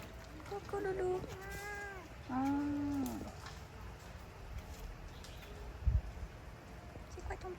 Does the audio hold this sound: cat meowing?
yes